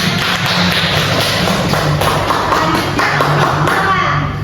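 A classroom group claps together during a teaching session, a dense, continuous patter of many hands lasting several seconds, fairly loud and close.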